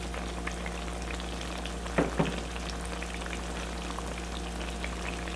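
Chicken with sliced onion and crushed black pepper cooking in a pan over high heat for a creamy malai chicken handi, giving a steady low sizzle with a couple of brief stirring knocks near the middle.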